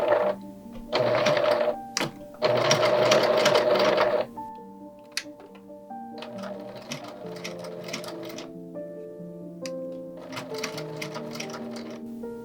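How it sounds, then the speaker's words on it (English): A sewing machine stitches along the very edge of doll overall fabric in several close, loud bursts of rapid clatter separated by short pauses, with quieter mechanical running in between. "And then just stitch down on the very edge of the fabric."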